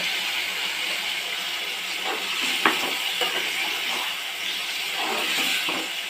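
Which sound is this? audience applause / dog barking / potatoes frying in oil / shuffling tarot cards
potatoes frying in oil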